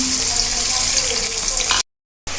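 Onions sizzle and fry steadily in a hot pan in a home kitchen, a dense continuous hiss that cuts out abruptly for a moment before resuming.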